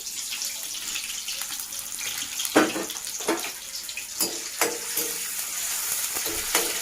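Chopped onion and bay leaf hit hot oil in a pan, giving a steady sizzle broken by several sharp crackling bursts and stirring scrapes, with no talking.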